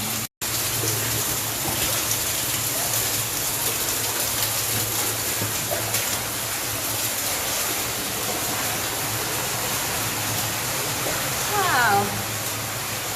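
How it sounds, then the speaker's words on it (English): Underground waterfall pouring from the ceiling of an old 1600s lead mine, a steady, loud rushing and splashing roar that fills the space without letup. "Right, so there's a waterfall there."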